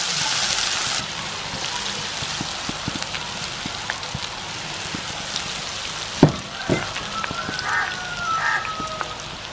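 Jackfruit pieces go into hot oil and fry with a continuous close crackling sizzle, scattered pops and a brief louder splash midway, with no voices.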